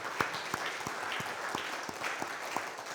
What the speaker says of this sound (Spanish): Démosle un aplauso de alabanza al Señor